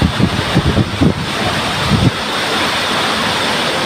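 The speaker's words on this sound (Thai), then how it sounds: "ทั้งลมทั้งฝนเลยครับแรงด้วยครับฝน" A storm drives strong wind and heavy rain outdoors, a loud, continuous roar of wind and rain with heavy gusts thumping on the microphone early on.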